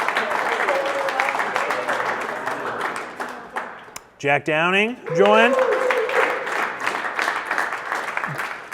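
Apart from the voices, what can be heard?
applause for new team hires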